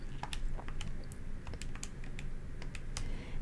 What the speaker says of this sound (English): And I'm going to type that in my calculator.